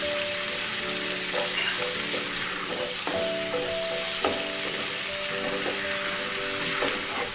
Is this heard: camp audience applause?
no